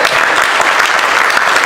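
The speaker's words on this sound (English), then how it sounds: "the fact that you applaud that is really amazing" Loud, dense applause from an audience runs steadily and close, with no pauses.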